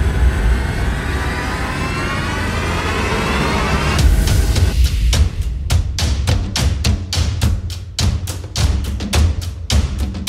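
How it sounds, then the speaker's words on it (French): A steady engine roar from inside an aircraft, then a rapid rhythmic chopping of rotor blades takes over, loud and close. "Première fois en hélicoptère"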